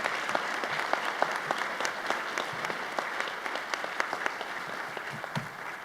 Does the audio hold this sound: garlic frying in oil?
no